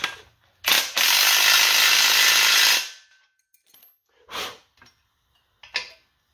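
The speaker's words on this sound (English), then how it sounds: "I'm going to take a 7/8 socket and just bring the bolt down so it's nice and tight" A ratchet with a 7/8 socket tightens a subframe bolt on a BMW E30 front assembly, giving one long burst of fast, close clicking, then a few short separate clicks and metallic taps.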